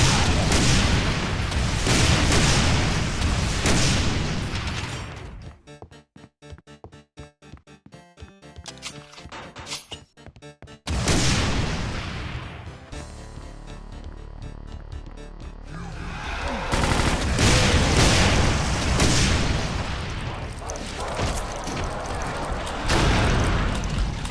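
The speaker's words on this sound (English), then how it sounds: "There's my rocket launcher." Rocket launcher firing in Brutal Doom, heavy booming blasts and explosions in loud stretches, broken by quieter, cut-up patches of game noise partway through before the loud combat returns.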